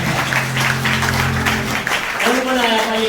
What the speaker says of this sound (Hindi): एक बार जबरदस्त और जोरदार तालियां मारेंगे